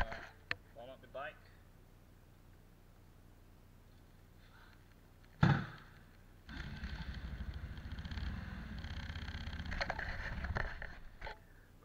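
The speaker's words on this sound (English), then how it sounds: "So I'm gonna warm up the bike." A Sym GTS200 scooter engine starts after a sharp clunk and settles into a steady, low, rumbling idle as it warms up, close by, following a few quiet mechanical ticks.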